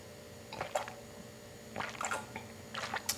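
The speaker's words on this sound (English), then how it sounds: "I need to take a drink of water." A person takes a drink of water, with a few wet squishy gulping and swallowing sounds in separated bursts, close and fairly quiet over a faint steady hum.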